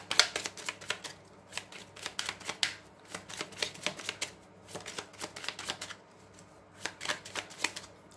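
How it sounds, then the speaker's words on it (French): Oracle cards shuffled by hand in a quiet room, a fast run of crisp riffling flutters in repeated bursts with short pauses between, close and fairly loud with no voice. "je mélange cet oracle comme ça"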